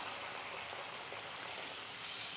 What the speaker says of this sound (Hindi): आधा कप पानी डाल देंगे।